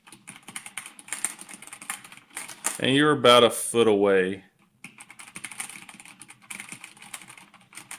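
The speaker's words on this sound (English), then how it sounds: "Here, for a sound test, here's the orange ones." Typing on a Razer BlackWidow Tournament Edition Chroma mechanical keyboard with orange switches, a steady run of fairly quiet, close keystrokes around a short spoken remark.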